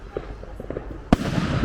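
A Bonfire Night firework goes off with a single loud, close bang after some quiet chatter, followed by a crackling, hissing spread of noise.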